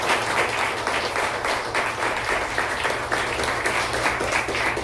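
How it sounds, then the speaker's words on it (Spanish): Church congregation applauding together, a steady wash of clapping sustained loudly throughout with no gaps. "Yo le daría un fuerte aplauso al Señor por ese mensaje."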